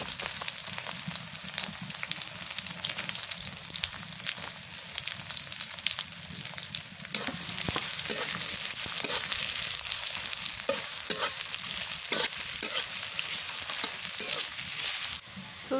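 Onions sizzle steadily in a hot pan as a utensil scrapes and stirs through them, producing a constant close frying hiss with intermittent clinks and scrapes.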